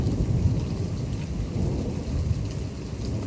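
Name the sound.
distant thunder during a thunderstorm with rain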